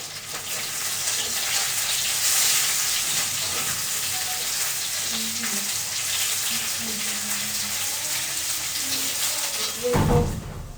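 Potatoes, pointed gourd and jackfruit seeds fry in a pan with salt and turmeric, giving a steady broad hiss throughout, then a brief louder burst near the end, with no speech.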